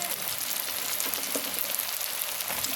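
Potatoes with green and red chillies fry in hot oil, giving a steady, close hiss and crackle of sizzling that runs continuously without talk.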